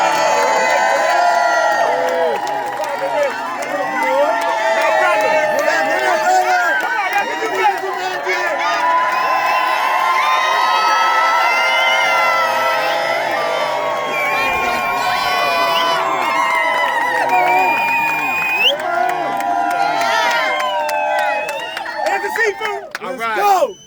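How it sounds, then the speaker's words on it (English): Crowd at an outdoor gathering at Stone Mountain cheering and shouting for a long stretch, loud whoops and overlapping voices forming a continuous roar, with excited individual yells rising above the crowd. "let's give a round of applause for Brother Rich Radiohead"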